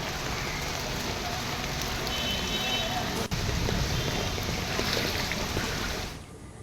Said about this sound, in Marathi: मुंबईमध्ये जोरदार पाऊस सकाळपासून बरसतोय